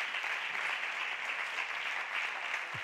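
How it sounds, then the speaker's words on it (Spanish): Steady, dense applause from an audience at the final of a flamenco singing contest in Cádiz, a continuous even roar of many hands clapping for the full stretch without pause. "un fuerte aplauso"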